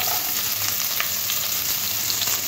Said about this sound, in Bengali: তেলটা খুব ভালো গরম হয়ে আসলে ফোড়নের জন্য দিয়ে দেবো গোটা জিরে, তেজপাতা, দুটো শুকনো লঙ্কা